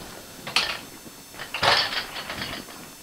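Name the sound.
Abba Sky Lift motorcycle stand being taken off BMW GS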